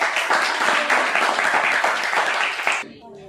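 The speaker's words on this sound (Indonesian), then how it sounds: "Berikan dulu tepuk tangan." Steady applause from a classroom audience, dense and lively clapping for about three seconds before cutting off abruptly into near silence.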